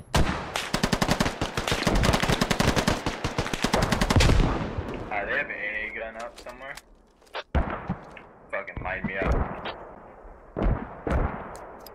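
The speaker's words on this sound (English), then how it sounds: "After my frag went off" A frag grenade blast in the military shooter Squad comes amid dense, loud rapid gunfire, followed by scattered single shots and radio-like voices talking over the fading combat.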